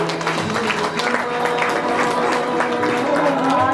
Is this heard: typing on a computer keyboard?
no